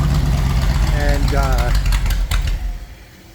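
A Bombardier engine idles just after start-up, a loud, steady low rumble that holds, then tapers off toward the end, with a person talking over it.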